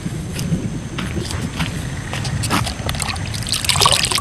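Bottled drinking water poured into a container to soak sponge gourd seeds, a steady close trickle and splash with small bumps and handling noises throughout.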